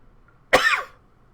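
A single sharp, harsh cough bursts out close by after near silence, then quickly fades.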